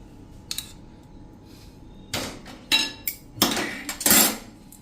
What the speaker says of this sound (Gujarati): હવે એને આપણે આ રીતે ગળણેથી ગાળી લઈએ બીજા વાસણમાં, એટલે કાંઈ પણ જો રેસા કે કાંઈ હશે ને એ નીકળી જશે